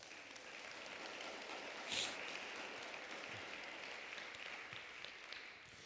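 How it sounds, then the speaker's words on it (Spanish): A church congregation applauds during a Spanish-language sermon, a fairly faint, steady wash of clapping heard from a distance, with one brief louder burst partway through. "Dale un aplauso a Jesús."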